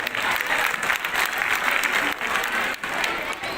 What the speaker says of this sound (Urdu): بہت ساری تالیاں